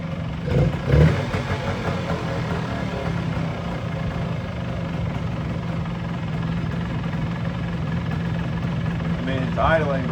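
A 1973 Kawasaki F7 175 two-stroke motorcycle engine idles roughly at high revs, a steady close buzzing drone with uneven pulses, while someone talks over it throughout.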